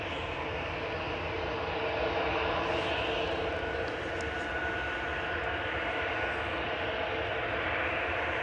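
A Cathay Pacific heavy jet moves out at Manchester Airport, giving a steady, broad engine rumble and whine that holds throughout, moderately distant, with no talk over it.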